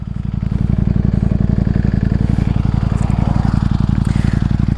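A Ducati Streetfighter V4 motorcycle engine idling close by, a loud, rapid, evenly pulsing rumble that runs throughout without any speech.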